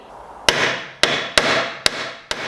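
A hammer strikes the crumpled metal slam panel top rail of a crashed Mini Cooper, five loud ringing metallic blows at irregular intervals, each with a long fading resonance, close and without talk.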